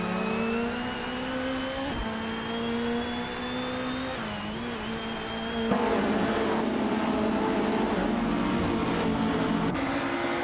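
A classic 1991 Nissan Primera P10 and other race cars in a racing video game, engines droning steadily with rising and falling pitch as they accelerate and shift, growing louder partway through, with no talk.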